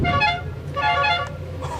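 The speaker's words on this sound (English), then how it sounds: "Listen to that horn, Tommy." Horn of a 1976 Chrysler Cordoba honking in two sustained blasts with a brief gap, fairly close and loud, with faint background noise.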